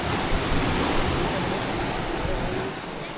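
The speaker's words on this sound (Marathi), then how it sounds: "मस्त शांततेत समुद्राचा आवाज आणि ज्या लाटा येतात त्यांचा आवाज" Sea waves wash onto a quiet Konkan beach, a steady close surf hiss with gentle swells rising and falling, heard alone.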